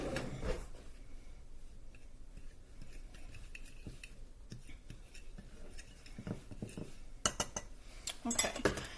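Parsley being mixed into flour in a bowl: faint, sparse scraping and light utensil clinks, with a brief burst of louder clattering near the end.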